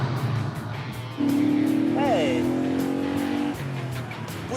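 A 2.5-litre V8 car engine fires up and revs into a loud, steady rising drone for a couple of seconds, then drops back to a lower idle rumble.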